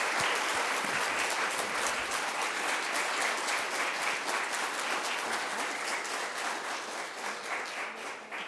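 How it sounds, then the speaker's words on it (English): An indoor audience gives a steady round of applause after a presentation, dense clapping sustained for several seconds before tapering slightly. "Let's give Hayden one more round of applause."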